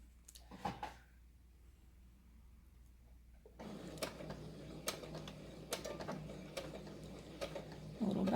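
A sewing machine stitching the finish on a cross stitch bookmark, first a faint brief whir after a quiet stretch, then a steady low mechanical hum with recurring ticks and clicks, fairly soft and close.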